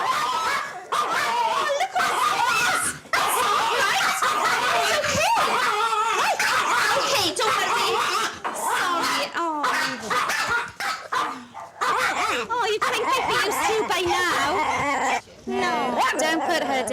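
Two small aggressive dogs bark and yip almost without pause, close and loud, with shrill whimpering yelps mixed in and people talking underneath.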